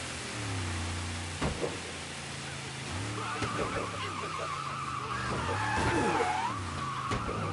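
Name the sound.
car sliding and skidding in the video game Mafia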